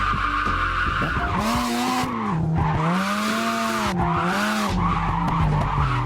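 Tires squeal and skid as a Veilside RX-7 drifts through traffic in a video game, long wavering screeches that rise and fall over a steady engine drone, loud and close.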